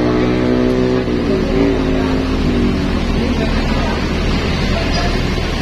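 An NPM bus with an SR2 HD Prime body idles and rumbles loudly nearby at Merak Executive harbour, a low steady drone with some mechanical whine, with voices faintly mixed in.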